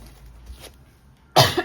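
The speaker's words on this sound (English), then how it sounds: "I might cough and sniffle a little today." A single sharp cough bursts out near the end, loud and close, after a second of near quiet with a faint earlier breathy sound.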